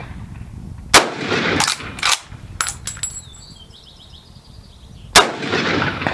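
Action of an 1895 Russian contract carbine in 7.62x54R being cycled, giving several sharp, close metallic clacks and a brief ringing, then a final loud clack after a short pause.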